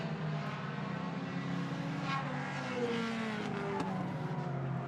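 Pure stock race cars run an eight-lap heat race on an oval track, their engines a continuous roar at mid distance, rising and falling as the pack circulates.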